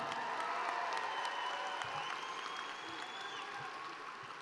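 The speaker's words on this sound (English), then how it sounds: "Can I get another round of applause?" Graduation audience at a high school ceremony applauds in a sustained, dense wash of clapping with some cheering, steady and loud throughout, fading slightly toward the end.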